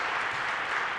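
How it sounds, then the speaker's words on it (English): Dense, steady applause from a conference audience for the event's organizing chamber team, a broad continuous wash of many hands clapping at once with no talk over it. "And one more round of applause for just the entire chamber team."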